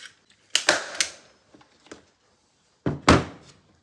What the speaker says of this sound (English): This staple gun's fucking horrid